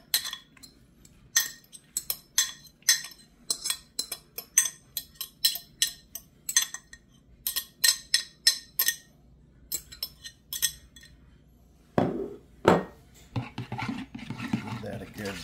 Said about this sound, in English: Give that a good stir. Mix that up in there.